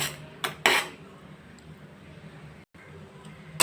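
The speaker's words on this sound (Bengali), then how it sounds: "মাঝে মাঝে এরকম একটু নাড়তে হবে না হলে তলায় লেগে যেতে পারে" A utensil clinks and scrapes against a pan of milk thickening over a low flame for mango chhana payesh, with a few sharp metallic knocks over a soft, steady background.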